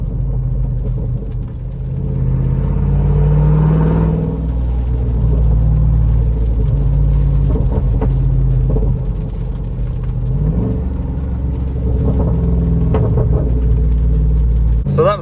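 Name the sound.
Jeep Rubicon 392 engine revving with throttle taps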